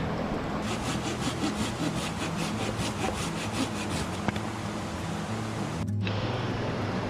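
A Silky hand saw cuts through a chunk of cottonwood outdoors, its strokes rasping in a steady back-and-forth rhythm close by, set against a constant rushing background of water near a creek.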